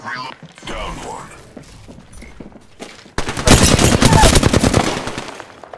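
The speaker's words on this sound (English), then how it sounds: "Shot fired. And they're hitting me." Rapid automatic gunfire from the Apex Legends video game bursts out loudly and continuously in the second half, after quieter game sounds and a player talking.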